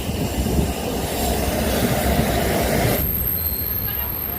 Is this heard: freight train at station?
yes